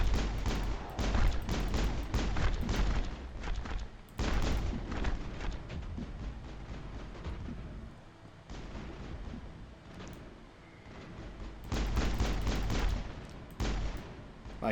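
Gunfire in the game Mass Effect crackles in dense, rapid bursts with booming impacts, loud and sustained, easing briefly in the middle before heavy firing resumes.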